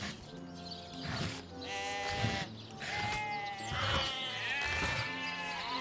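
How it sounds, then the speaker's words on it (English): Sheep in a fantasy video game town beset by undead and orcs bleat repeatedly, several wavering calls overlapping close by, with no talk. "Hello, sheep."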